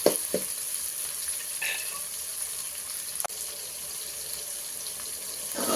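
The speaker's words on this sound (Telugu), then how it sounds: "ఇది బాగా వేగిపోయిందండి పది నిమిషాలు బాగా వేగింది ఈ టమాటా" Tomatoes frying in a pan on low heat, a soft steady sizzle with a few faint clinks and scrapes.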